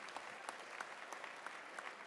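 Faint applause from an audience at the Redford Theater, a steady patter of clapping heard from a distance.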